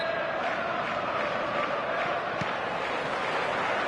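Stadium crowd on match day in the football video game eFootball 2026, a dense, continuous roar of distant fans filling the stands, steady and broad with murmur and occasional swells, no clear speech.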